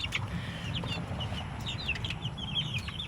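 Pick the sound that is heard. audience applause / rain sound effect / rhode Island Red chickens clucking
rhode Island Red chickens clucking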